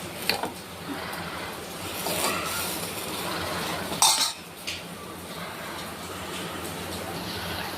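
Boiled cauliflower pieces for gobi fry are lifted out of the cooking water into a bowl, giving scattered quiet metallic clinks and scrapes of utensil on vessel, with one sharper clatter partway through.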